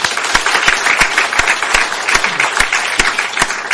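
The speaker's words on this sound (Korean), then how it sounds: "우리 한번 렘넌트를 위해서 한번 박수 한번 칩시다" A church congregation applauds together in a dense, steady patter of many hands, with sharper claps poking through the wash for a few seconds and no voices.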